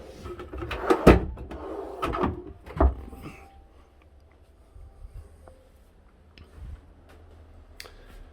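Several wooden thumps and knocks sound in quick succession as drawers under the bed of a 2020 Beneteau GT 40 boat slide open and shut, followed by quieter faint clicks.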